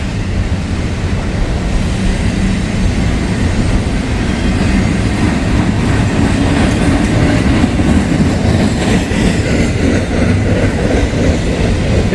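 A freight train labours up a steep grade near FedEx in Grove, a loud continuous rumble of engines and rolling wagons with faint clickety-clack, close and steady throughout.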